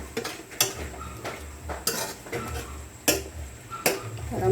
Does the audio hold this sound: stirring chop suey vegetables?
yes